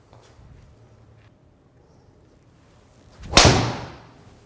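After a quiet stretch, a single loud, sharp crack of a Titleist golf driver hitting a ball rings out and fades.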